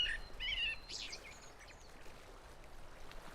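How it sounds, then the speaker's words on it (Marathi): A few quick bird chirps ring out early, faint against a soft, continuous trickle of water in a quiet creek setting. "सगळीकडे नुसती शांतता आणि फक्त पाण्याचा आणि पक्ष्यांचा आवाज"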